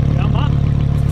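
A car engine runs just after a cold start, holding a steady, loud, low drone throughout with no clear revving, while a voice briefly talks over it.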